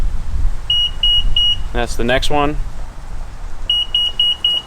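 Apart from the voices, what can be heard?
power liftgate speed setting beeps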